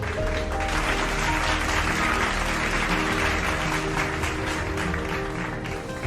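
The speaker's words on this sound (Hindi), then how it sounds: "ऐसे लोगों के लिए ताली तो बनती है।" Steady, dense applause from a crowd fills the whole stretch, loud and continuous with no pauses.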